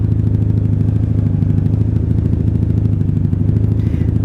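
Honda Magna 750 VF750C, a 1997 V4 cruiser motorcycle, running loud and close with a steady low engine drone and rhythmic exhaust pulsing, a little faint clatter on top, no talk.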